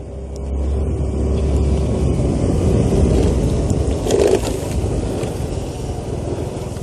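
A scooter engine strains as it rides uphill in Lohaghat, a steady, fairly loud motor drone mixed with wind rumble that holds for several seconds with no one talking.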